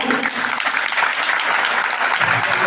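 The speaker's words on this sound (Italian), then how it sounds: "Te lo faccio io un applauso da qui." Dense, sustained applause fills a theatre after a band concert, a steady wash of many hands clapping at once, loud and continuous with no talk on top.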